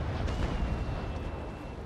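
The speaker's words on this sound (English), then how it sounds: "Another broadside, come on." Broadside cannon fire rolls out from a 2nd-rate sailing battleship in the Naval Action naval game, a dense rumbling series of booms that swell and fade over under two seconds, with no talk.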